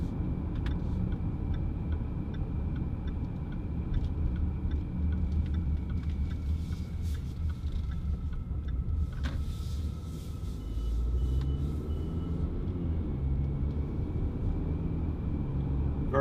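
2017 Jaguar F-Pace R-Sport 250PS AWD heard from inside the cabin while driving: a quiet, steady low road rumble and muted engine hum, with faint light ticks over it and no talking.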